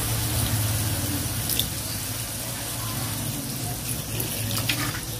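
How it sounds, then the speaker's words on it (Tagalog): Vinegar poured into chicken and pork adobo as it cooks, a continuous liquid splashing and pouring sound at moderate loudness with no talk. "Tsaka ng vinegar po. Suka po, lagyan po natin."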